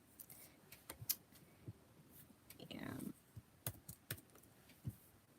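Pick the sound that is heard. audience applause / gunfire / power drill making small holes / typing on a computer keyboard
typing on a computer keyboard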